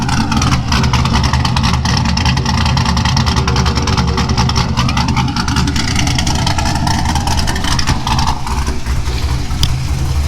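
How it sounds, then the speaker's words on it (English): Chevrolet Corvette C5 engine and exhaust running close by, a steady loud drone with a slight rise in revs, filling the whole clip with no talk. "There's some exhaust for you guys."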